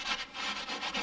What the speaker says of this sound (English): I'm going to go in here and I'm going to scrub this